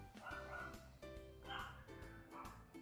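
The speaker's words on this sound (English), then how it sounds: "That's Chloe barking." A dog barks repeatedly in short bursts, a few sharp yips spread across the clip, fairly close, with some talking faintly mixed underneath.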